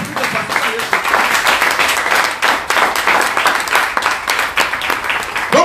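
A church congregation claps loudly and continuously at a lively worship service, dense applause holding steady throughout with a voice calling out over it.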